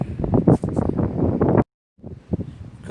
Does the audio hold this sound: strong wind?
yes